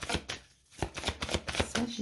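Belline oracle cards being shuffled by hand, a brisk run of papery riffles and slaps with a short pause near the start, then steady repeated bursts close to the microphone.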